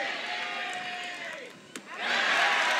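Crowd at an LSU vs Florida college softball game cheering and whooping as Florida gets two runners on in the sixth inning, a broad, moderately loud roar that swells again near the end, with a commentator talking over it.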